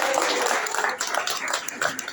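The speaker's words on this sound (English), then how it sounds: "Give it another round of applause for Zishan." Guests at a UK wedding applaud after a groomsman's best man speech, a dense, steady round of clapping filling the room at close range for a couple of seconds.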